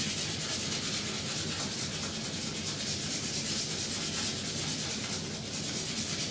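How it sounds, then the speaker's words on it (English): Fine sandpaper with a yellow backing rubs over a wooden CO2 car body, giving a steady, close, continuous gritty scraping with no pauses or voices. "the final step is the fine sandpaper, which has a yellow backing"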